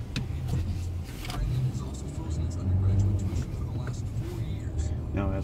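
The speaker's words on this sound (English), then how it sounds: "we're going to take this car on a test drive of the Los Angeles downtown area streets." A 2016 Nissan Maxima S drives through downtown Los Angeles streets, its engine and road noise a low, steady hum beneath frequent talking inside the cabin.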